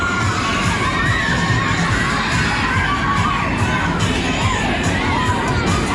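Riders scream and shout together on a fun fair ride in Eastleigh, a dense, continuous wash of crowd noise holding steady throughout, with no clear talk above it.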